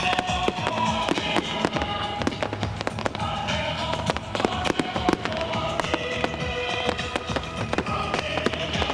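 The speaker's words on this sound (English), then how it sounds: "The grand finale to the evening is a firework display, which comes to a rather premature end." Rapid crackling bursts of fireworks pop and bang continuously, sharp and loud, with a dense rattling barrage throughout.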